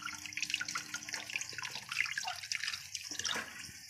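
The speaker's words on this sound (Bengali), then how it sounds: "মাছটা ধুয়ে নিচ্ছে" Tap water runs steadily into a sink as fish is rinsed under it, a close, continuous splashing with small shifts in flow and no talking.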